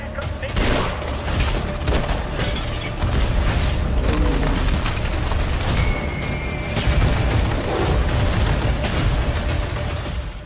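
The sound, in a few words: gunfire in the video game Atomic Heart trailer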